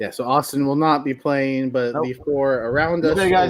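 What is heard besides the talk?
No everyday noises stand out.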